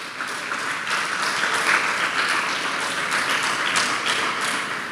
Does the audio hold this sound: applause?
yes